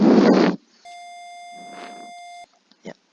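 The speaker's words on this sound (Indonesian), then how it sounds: "Ya, terdengar buzzernya." A simulated buzzer in a wokwi.com circuit sounds one steady electronic tone for about one and a half seconds. Bursts of noise come before it and after it.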